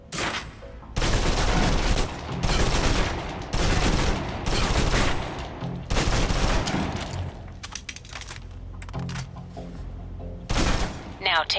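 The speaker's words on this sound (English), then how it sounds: "Now, let's move on to the submachine gun. Now let's empty the clip." Submachine gun in the Alpha Protocol video game fired in several long, loud automatic bursts that empty the magazine, separated by short pauses, with no talking.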